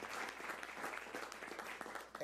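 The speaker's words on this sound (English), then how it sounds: "let's give him another round of applause and thank Mayor Walsh" An audience at a Boston climate summit press conference applauds a mayor, a dense steady spatter of many hands filling the room at moderate distance, with faint voices mixed in.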